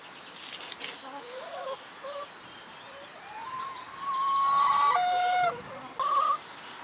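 Several hens clucking in a small henhouse, short scattered clucks building into a louder sustained squawk near the end, close by and alone without talk.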